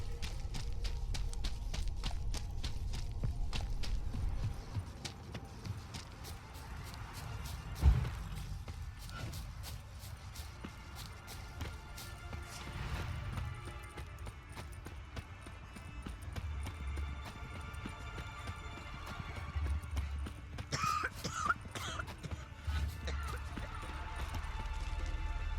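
Horse hooves clopping in Witcher 3 on Skellige, a steady run of hoof falls continuing throughout, moderately loud over a low ambient game rumble.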